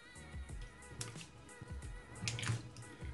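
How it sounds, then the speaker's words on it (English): Cut potato chips dropped and splashed into a bowl of water while preparing chips, with small sloshing, dripping and clinking sounds close by, loudest near the end. "Right now I'm just putting it inside the water."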